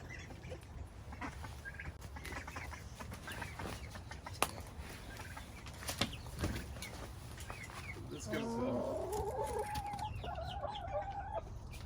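A backyard flock of chickens in an urban permaculture rotational paddock clucks softly, with brief scattered calls and a few louder clucking phrases near the end over a faint outdoor hum.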